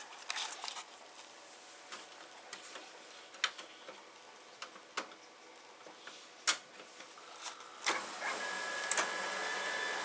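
A laser printer fitted with a JetDirect card powers on during a cold reset, giving off a steady mechanical whir with scattered clicks and ticks that grow louder toward the end; nobody talks.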